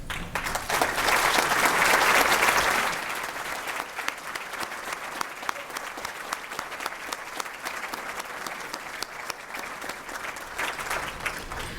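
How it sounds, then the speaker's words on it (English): An audience at an alumni luncheon applauds award recipients, a loud swell of clapping that peaks early, then settles into steady scattered hand claps that continue throughout. "Please join me for a round of applause for all of our award recipients."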